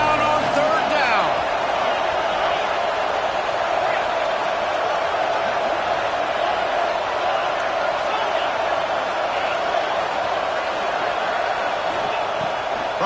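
Football stadium crowd roaring during a Gators game on third down, a loud, continuous wall of cheering and noise that stays intense throughout, with an announcer talking over it.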